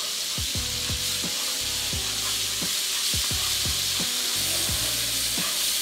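Food with paste stirred in a sizzling pan, a constant loud frying hiss under repeated scraping strokes of a utensil, close up and with no talking.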